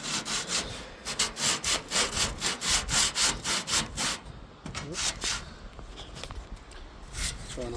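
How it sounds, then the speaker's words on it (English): Rhythmic back-and-forth scraping of hand sanding during refrigerator repair, strong regular strokes for about four seconds, then softer, slower rubbing. "I'm gonna sand over here."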